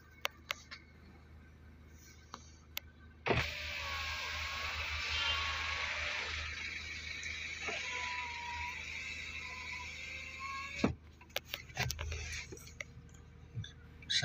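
BMW front driver-side power window motor running for about seven seconds during a window reset, a steady whirring hum that starts and stops abruptly, with faint clicks before and after.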